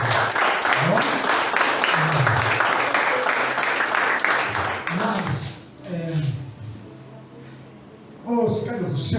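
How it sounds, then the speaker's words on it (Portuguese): Church congregation clapping at a worship service, a dense burst of applause for the first half that thins out, then a voice speaks over fading claps before a short swell returns at the end. "Deus abençoe, uma salva de palmas."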